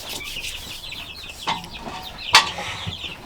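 Chickens, pullets and roosters being moved between pens cluck and squawk intermittently, with one sharp loud squawk standing out over background farmyard noise.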